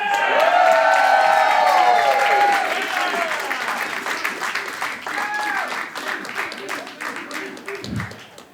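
A wrestling crowd at an NWA event bursts into loud applause with whoops and cheers, strongest at first and then settling into scattered clapping while someone speaks over it.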